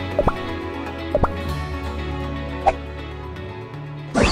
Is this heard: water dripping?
yes